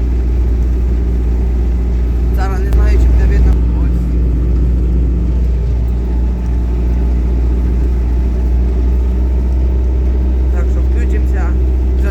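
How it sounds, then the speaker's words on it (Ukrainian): A GAZ truck loaded with fertilizer drives across a wheat field, its engine a steady low rumble running throughout while someone talks over it. "машина з добривом вже під'їжджає, газончик"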